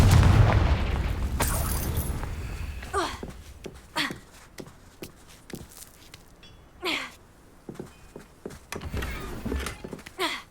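Confringo blasting spells in Hogwarts Legacy boom and burst after a heavy opening rumble, followed by a series of sharp, scattered impacts and crackles of varying loudness.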